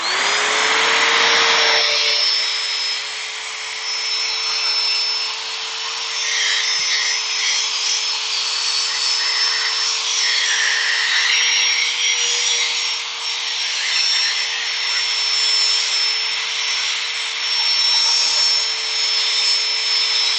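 A power sander works on a Sri Lankan rosewood incense holder, a loud continuous whirring grind with a steady motor hum that holds nearly unchanged for about twenty seconds.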